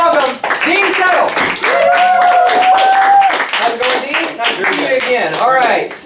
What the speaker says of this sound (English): we need to have continuous clapping after the guests sit down